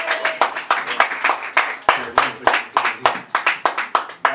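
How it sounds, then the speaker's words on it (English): Audience at an open mic night claps for the hosts, a rapid run of sharp, rhythmic hand claps from a small crowd, close and steady throughout with no voices. "Give them a round of applause real quick."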